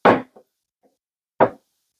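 Whiskey glasses shuffled on a table: two sharp knocking clinks a little over a second apart, with a faint small tap between, close and alone.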